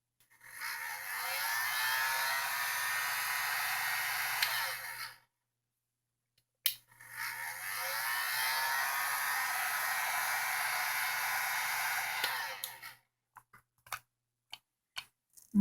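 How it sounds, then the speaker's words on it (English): A heat gun blows steadily on a Garmin Nuvi to soften its glue, running loud and close in two long bursts separated by a pause, followed by a few small clicks and handling taps. "This device here is a heat gun. This is not a hair dryer. This is way hotter."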